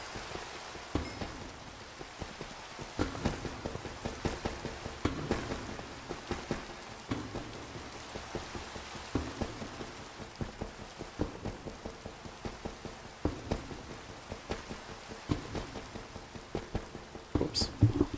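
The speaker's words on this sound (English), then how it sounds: "I should not be surprised that it's raining again" Steady rainfall in the Minecraft video game, a soft continuous patter with faint low rumbles, heard throughout at low level.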